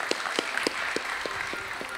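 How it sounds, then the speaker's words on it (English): Scattered audience clapping at a technology conference plenary, a few distinct claps at an irregular rhythm, fairly close and moderately loud, with no talk over it. "A round of applause."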